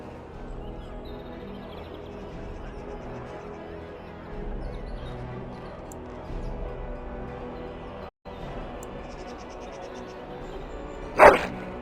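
A dog barks in the Dragon Age video game, a short burst near the end of a steady hum of game ambience and music.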